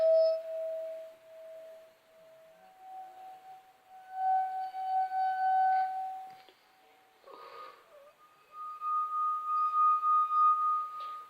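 Clear ringing tones struck on drinking glasses, several notes at different pitches played one after another, with a few brief pauses between them.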